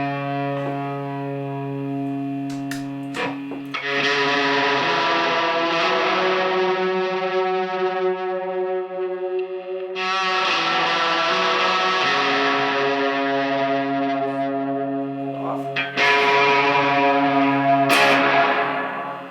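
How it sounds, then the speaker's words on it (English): Sustained Fender Telecaster electric guitar chords with heavy gain and a wash of reverb, notes ringing and swelling, struck again a few times with long decaying tails. "Add a little bit of reverb."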